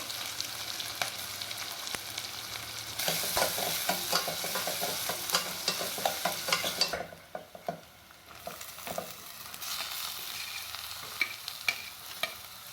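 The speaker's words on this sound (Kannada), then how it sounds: "ಸಣ್ಣಕ್ಕೆ ಹೆಚ್ಚಿದ ಹಸಿಮೆಣಸಿನ್ಕಾಯಿ, ಈರುಳ್ಳಿ, ಸಣ್ಣಗೆ ಹೆಚ್ಚಿದ ಈರುಳ್ಳಿ ಇಷ್ಟನ್ನು ಹಾಕಿ ಚೆನ್ನಾಗಿ ಬಾಡಿಸ್ಕೋಬೇಕು ನಾವು" Chopped green chillies and onions being stirred and sautéed in a hot pan for a traditional village bassaru, a steady close sizzle with repeated scraping stir strokes that swell louder midway, dip briefly, then resume.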